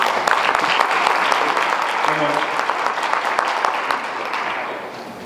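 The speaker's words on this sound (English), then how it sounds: "I'll give them one more round of applause." A room full of people at a basketball banquet claps steadily for several seconds, close and fairly loud, tapering slightly at the end while a voice speaks briefly over it.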